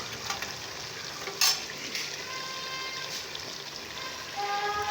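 Tomato paste cooks in a karahi for an Afghani karahi, giving a steady soft sizzle with occasional stirring scrapes and one brief louder clatter, heard alone with no voices.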